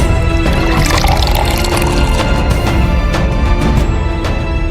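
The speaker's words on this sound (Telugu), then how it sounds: "ఆ నీళ్ళు ఒక బౌల్లో వేసుకొని" Water poured from a bottle into a bowl, a steady close splashing and gurgling stream that runs loud and continuous for several seconds with no talking.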